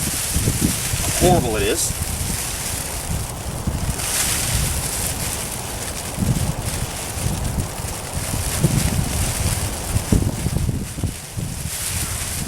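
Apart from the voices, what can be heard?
strong wind outdoors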